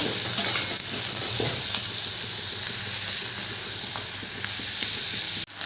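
Capsicum and onion fry together in a pan for chilli chicken, a continuous close sizzle with light stirring and spatula scrapes and no voices.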